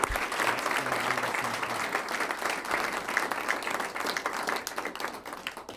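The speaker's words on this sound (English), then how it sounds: "So give them a round of applause." Steady applause from a school board meeting audience for an 8th grade orchestra group after their holiday music performance, dense clapping sustained throughout at moderate volume.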